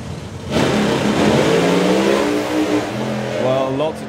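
Corvette and Dodge Avenger drag cars launch side by side down the strip at a drag racing event, engines surging loud and rising in pitch, with tyre shake and a commentator talking over the roar.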